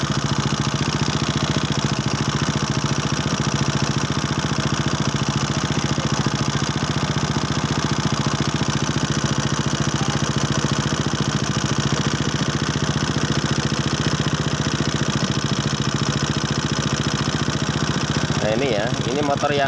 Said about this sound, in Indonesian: Kita nyalakan motornya, suaranya halus ya, bagus.